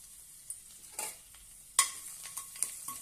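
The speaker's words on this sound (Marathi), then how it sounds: "तो घालूया छानपैकी परतून घेऊया" Crushed garlic, mustard seeds and cumin sautéing in hot oil, a quiet background sizzle broken by sharp crackles and pops, with one loud burst near the middle, no voices.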